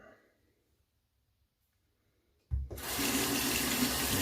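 Tap water gushes into a sink to wet the face before a shave, starting abruptly after a quiet pause and then running steadily and loudly to the end.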